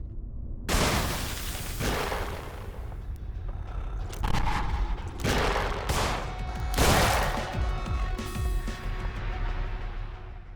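Gunfire in the video game In Sound Mind aimed at a barrel, a few heavy shots and booming bursts with echoing tails, loud and spaced a second or two apart.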